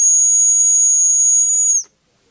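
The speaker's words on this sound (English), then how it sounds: "This is a dog whistle." A dog whistle gives one steady, very high, thin tone held for nearly two seconds, then cuts off abruptly into silence.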